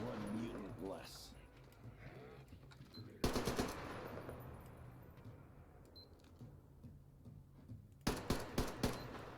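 Automatic gunfire in the post-apocalyptic shooter Metro Exodus, two quick bursts of several rapid shots each, one early and one at the end, over quieter game ambience with someone speaking faintly.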